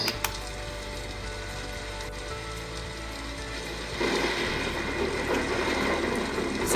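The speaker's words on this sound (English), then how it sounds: "And thunder." White noise machine playing its thunder sound: a rain-like steady hiss with a faint low rumble, a sharp click near the start, then a louder, denser downpour swelling in partway through.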